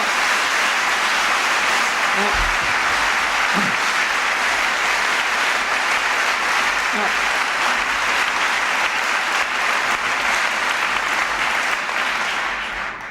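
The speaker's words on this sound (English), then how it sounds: "I'm glad you're clapping" Sustained, loud applause from an audience at a speech by President Bill Clinton, steady throughout with a few faint thumps and murmurs, tapering slightly at the end.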